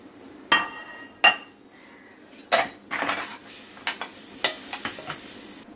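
Potatoes and fried fritters go into a pan of cooking jackfruit, with a few loud metallic clanks of a spoon against the pan, then stirring scrapes and clinks over a faint sizzle.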